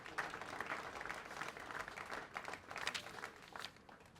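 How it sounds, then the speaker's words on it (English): Applause from the audience at a Gambia Police Force ceremony closing a German police support project, quiet and distant, steady clapping for several seconds. "please give them all a strong applause"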